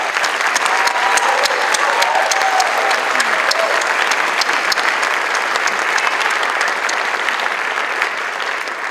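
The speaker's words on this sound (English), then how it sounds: "Can we give all the students a round of applause?" A holiday concert audience applauds the student performers, loud continuous clapping from a sizable crowd that stays steady throughout and tapers only slightly at the end.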